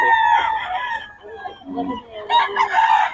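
A rooster crows loudly and close by at a farm in Pampanga, Philippines, its drawn-out call rising and falling, with a second crow starting near the end.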